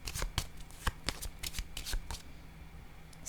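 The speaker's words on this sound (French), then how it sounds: "Là, je vais déposer une carte sur le cercueil." Tarot cards are handled and laid onto a spread, with soft, close, papery slides and flicks in a quick cluster that then fade to quiet room tone.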